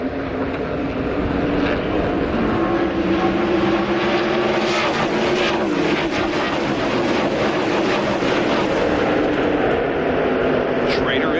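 NASCAR Winston Cup stock cars race in the 1989 Budweiser 500, a loud, continuous engine roar from the pack that swells as cars pass, with race commentary running over it.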